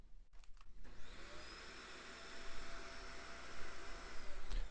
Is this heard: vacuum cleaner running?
yes